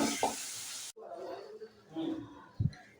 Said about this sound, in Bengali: নুন হলুদ মাখিয়ে তেলটা গরম হলে আমি চিংড়ি মাছটা ভেজে নেব।